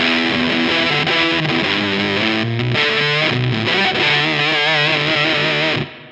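Distorted electric guitar through a Way Huge Stone Burner Sub Atomic Fuzz pedal, with a fuzzy, gritty tone and a thick low sub octave beneath, playing sustained notes and riffs continuously before cutting off at the end.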